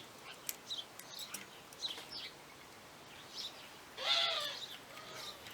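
A bird calls outdoors in short, scattered chirps, with a brighter burst of trilling near the end, fairly faint against a quiet background.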